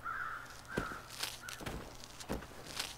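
Crows caw in the snowy wilderness of the video game The Long Dark: several harsh calls at moderate distance, mixed with crunching footsteps.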